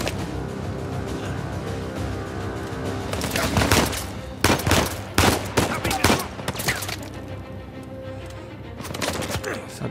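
Bursts of gunfire ring out in an Uncharted 4 firefight, a run of loud sharp shots clustered in the middle with sporadic cracks around them over game ambience, and someone talks now and then.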